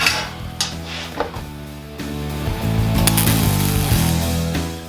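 A metal clamp clanks and ratchets as it is shifted and readjusted on a welding project built from cutlery, with sharp close knocks and metallic rattles and no speech.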